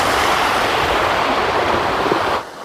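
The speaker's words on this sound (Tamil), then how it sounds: "இந்த அருவி வந்து பார்த்தீங்கன்னா சூப்பராக இருக்குது பார்க்கறதுக்கு" Meghamalai waterfall roars as a continuous, loud rush of falling water heard from close by, dropping away abruptly at the very end.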